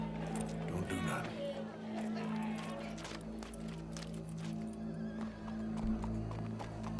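Horse hooves clopping steadily in Red Dead Redemption 2, a continuous rhythm of footfalls over a busy game soundscape with low hum and crowd murmur, with speech present and an occasional whinny.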